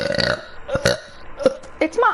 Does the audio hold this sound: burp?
yes